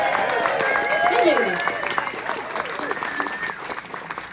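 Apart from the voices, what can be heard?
audience applause at live concert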